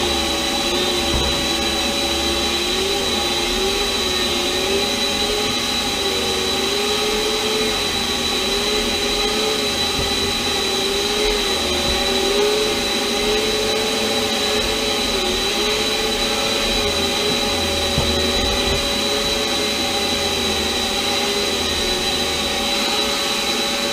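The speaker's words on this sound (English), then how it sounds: "Hit it again with the vacuum." A vacuum cleaner drones continuously and loudly up close, removing pet hair from fabric, its motor whine wavering slightly in pitch as it runs without pause.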